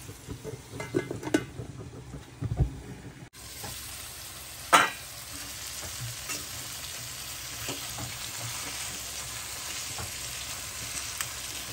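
Chicken leg pieces sizzle and fry in a pan, a steady crackling hiss with occasional stirring clatters and a brief lid or utensil knock, close and continuous with no talk.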